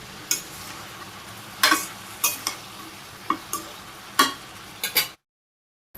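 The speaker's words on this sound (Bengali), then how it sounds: "আবার মিলে দিয়ে নাড়া দিয়ে দিই, সেইভাবেই কষিয়ে নিই" A spoon stirs vegetable curry in a pot, sharp scraping clanks arriving irregularly about every half second to a second over a faint background, then silence.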